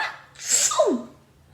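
A single sneeze, close and fairly loud: a breathy intake followed by a sharp burst that falls away quickly, likely voiced by a person acting it out.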